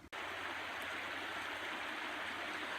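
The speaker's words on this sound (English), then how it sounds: "this is, I believe, the Chehalis River" The shallow Chehalis River flows steadily far below a high bridge, a continuous broadband rush of water heard alone after a brief click at the start.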